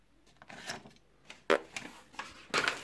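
Small scissors on a Xiaomi Nextool HRC50 multitool cutting a sheet of paper, a few quiet, sharp snips and rustles spaced about a second apart in a hushed room.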